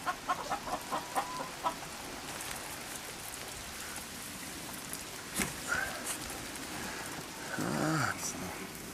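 Chickens cluck and call faintly outdoors at an alpine summer farm over a steady patter of rain, with a few scattered louder clucks near the end.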